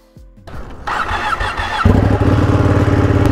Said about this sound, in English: As this motorcycle purrs to life